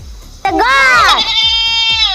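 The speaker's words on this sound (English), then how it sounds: "The goat." A domestic goat bleats once, loud and near, a long wavering cry that starts abruptly and holds steady to the end, over faint rhythmic thumps in the background.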